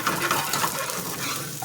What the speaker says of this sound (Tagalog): I have to saute with onion